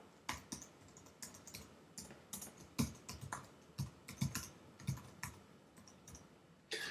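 Registration details are typed on a computer keyboard: a quiet, irregular run of key clicks with short pauses between bursts, heard close and with no voices.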